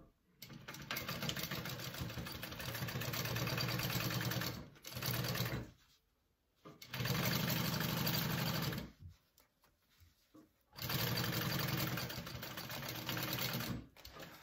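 A sewing machine stitches a handbag seam in several steady runs of rapid, even whirring, each stopping and restarting after short pauses.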